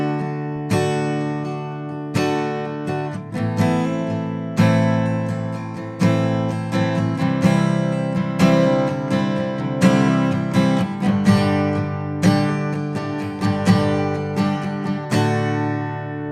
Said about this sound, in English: You could use a common 4/4 strum.